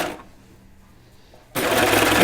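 Sewing machine stitching a knit T-shirt, quiet at first, then starting up abruptly into a loud, steady, rapid whir of stitching that continues to the end.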